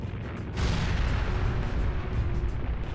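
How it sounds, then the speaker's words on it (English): A Persona 5 Royal explosion erupts suddenly as one loud, sustained booming rumble, with heavy low-end roar that holds for a couple of seconds, alone with no talk. "An explosion?"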